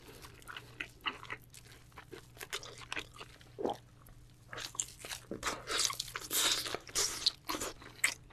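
Beef brisket steak dipped in salt sauce is chewed close to the mic in a quiet room, with soft wet crunches and bites that come in irregular bursts and grow busier toward the end.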